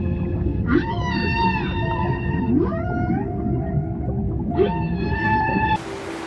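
Humpback whale song off Panama: three long, rising and bending tonal calls with rich harmonics, each followed by quieter moaning notes, over a low underwater rumble.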